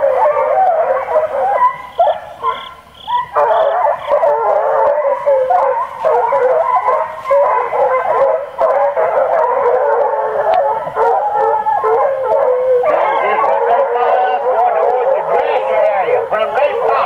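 A dog howls and yips along with loud music, its cries carrying through much of the stretch over the constant music, and people talk now and then.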